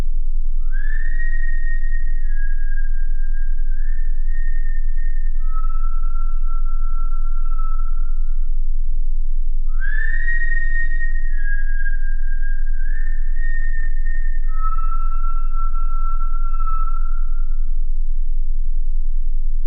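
Two repeats of the same cheerful melodic whistled tune, each a short phrase of sliding and held notes, clear and alone over a steady low background hum.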